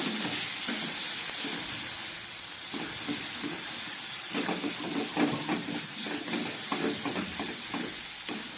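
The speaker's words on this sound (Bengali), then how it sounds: "সমস্ত মশলা দিয়ে আমার আলুগুলো খুব ভালো করে কষিয়ে নিলাম" Fried potatoes being stirred into spice masala in a pan with oil while cooking a pond crab curry, giving a steady close sizzle and hiss with repeated scraping stirs, no talking.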